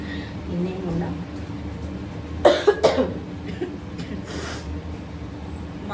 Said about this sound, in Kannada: ಕೆಮ್ಮು ಅಂತ ಹೇಳಿದ ತಕ್ಷಣ ಮತ್ತೆ ಕೆಮ್ಮು ಬರುತ್ತೆ